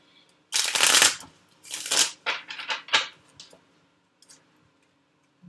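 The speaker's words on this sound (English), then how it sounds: "Shuffle." A deck of tarot cards gets shuffled up close in a few quick riffling bursts, crisp papery flutters and slaps that trail off into soft taps and silence.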